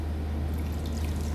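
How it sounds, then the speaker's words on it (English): Water poured from glasses into a pot of stuffed grape leaves weighted with a stone, a steady low trickling fill running evenly and close throughout. "Add some water, like 2 glasses."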